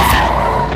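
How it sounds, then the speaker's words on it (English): A speeding car skids out of control on a road, its tires squealing in one loud, sustained screech that fades slightly at the end. "A car was speeding down the road and lost control and drove onto the sidewalk"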